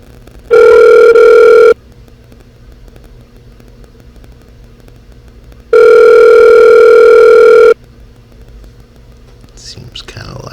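A regular phone's outgoing ringback tone sounds loud and close in two long steady bursts separated by silence, followed by faint rustling near the end.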